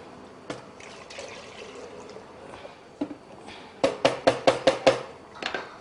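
Water splashing into drumstick and lentil sambar in a cooking pot, with scattered clinks early on and then a quick run of six or seven sharp, evenly spaced splashes near the end.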